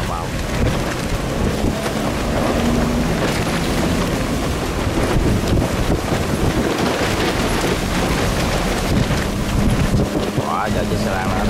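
Storm wind and rain roar at sea around barges moored side by side as a raft, a loud, steady, unbroken rush of wind noise that lasts throughout.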